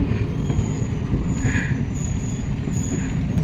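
Continuous low rumble and rattle inside a moving, nearly empty train carriage, with faint wheel squeals rising now and then.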